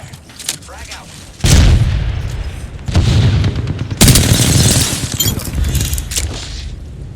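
A frag grenade blast in an online first-person shooter, heard as loud booming impacts among gunfire and chaotic battle noise.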